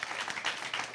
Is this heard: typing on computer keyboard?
no